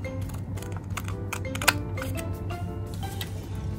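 Scissors cut origami paper for a New Year battledore craft, making a string of light, close clicking snips over a constant low background hum.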